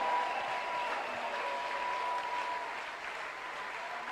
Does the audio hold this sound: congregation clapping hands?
yes